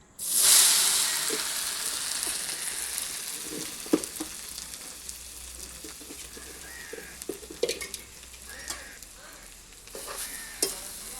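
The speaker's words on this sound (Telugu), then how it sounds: "కొబ్బరి కూర వేసుకుని వేపుకున్నామండి" Coconut curry frying in a pan, a loud burst of sizzle as it hits the hot oil, settling into steady frying with scattered stirring scrapes and clinks, no talking.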